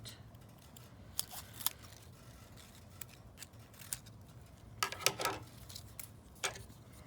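Scissors snipping a brown quilling paper strip in a quiet room, with a few faint, brief cuts in small clusters over a soft background hiss.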